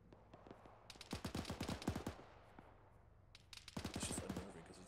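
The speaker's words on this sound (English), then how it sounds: "It's just unnerving because it sounds like they're shooting at me." Distant gunfire in a video game: two quick bursts of rapid automatic shots, faint and far off, separated by a brief lull, with no talking over them.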